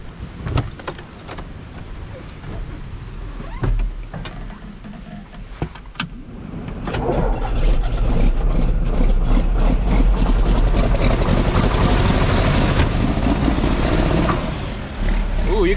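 A truck engine cranks and starts on a cold day during harvest, then settles into a loud, rough idle that roars close by, with a voice heard over the opening.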